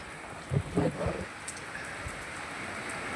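Rain falls steadily with a soft hiss, a few low knocks and thumps early on, and some faint drops standing out.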